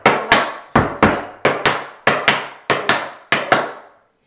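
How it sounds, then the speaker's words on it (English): Tap dance shoes striking a hard floor in flap-heel steps: crisp, loud metallic clicks falling in quick pairs, about eight pairs in a steady rhythm, each ringing briefly before the next. "And this is flap back heel, front heel."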